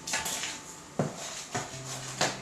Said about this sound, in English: You mix, you mix, you mix.